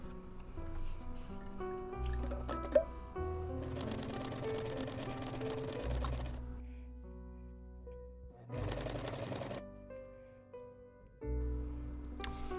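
A sewing machine stitches piping onto a dress sleeve in short, intermittent bursts of whirring, with quiet pauses between runs.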